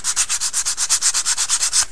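Something is rubbed back and forth along the edge of a mini travel canvas, making about fourteen even, rhythmic scraping strokes that sound close and fairly loud, with no talking.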